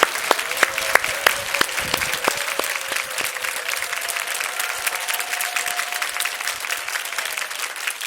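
Audience applause welcoming a pastor onto the stage at a Friday church worship gathering, steady moderate clapping throughout with a sustained tone line running beneath it.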